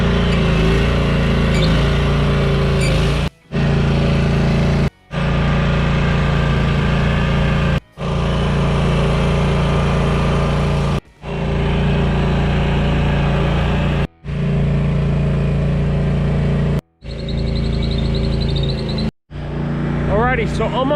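A tractor engine runs steadily at idle to warm its hydraulic oil, a low continuous drone broken by several brief cuts, with a voice talking over it.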